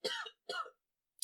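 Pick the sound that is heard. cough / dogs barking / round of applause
cough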